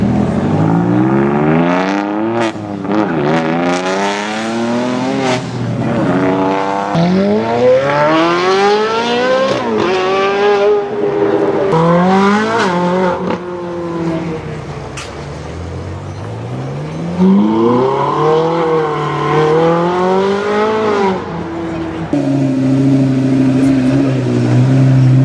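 A Ferrari 458 Speciale Aperta and a Porsche 991 GT3 RS accelerate away one after another, loud rising engine wails sweeping up through the gears in repeated climbing runs, close by, with rev pulls and brief dips between shifts.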